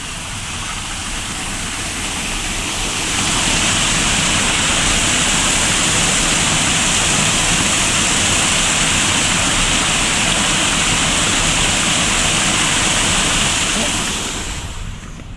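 Waterfall at Rifle Falls State Park, a loud, continuous roaring rush of pouring water that swells after the first few seconds and then holds steady.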